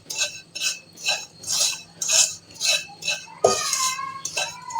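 Semolina roasting in ghee in a pan, stirred with a metal spoon that scrapes and clinks against the pan in a regular rhythm of about ten strokes, close and clear, with a sharper knock near the end.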